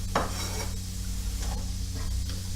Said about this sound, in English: Get a little sizzle on the onions.